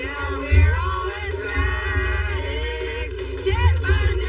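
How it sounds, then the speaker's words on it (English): Crowd outside the prison during Ted Bundy's execution, cheering and singing in a festive mood, a rowdy mass of voices with chanting and bursts of shouts swelling at intervals. "They were cheering, they were singing."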